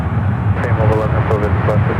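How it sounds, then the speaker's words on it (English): Boeing 757 airliner in a banking turn, heard as a steady low jet roar from a distance under someone talking continuously, near San Francisco airport. "The Newark flight, the 757, still making that bank turn as it heads back east."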